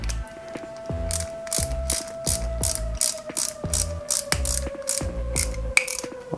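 Small screws being driven by hand into a joint of a RoboCop model kit, giving a steady run of short mechanical clicks and ratchet-like ticks, close and fairly loud, with a faint steady hum underneath and no talking.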